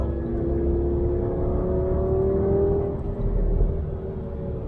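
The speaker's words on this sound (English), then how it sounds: "Gallardo is actually quite fun to drive." Lamborghini Gallardo engine droning steadily from inside the car while driving, a continuous close hum with a slowly rising tone and no speech.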